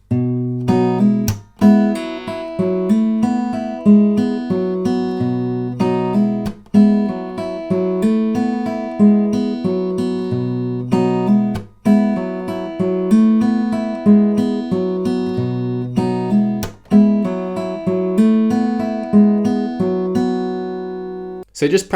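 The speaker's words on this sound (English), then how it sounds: "So the main riff is just repeated again and again and sounds like this." Guitar slowly fingerpicks the main riff of a song, a steady looping pattern of plucked notes and bass repeated again and again, close and clear with no talking.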